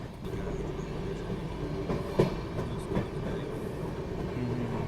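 A passenger train rolls along the rails from inside the carriage, a steady rumble with soft rhythmic clacks of wheels over track joints and a faint metallic squeal.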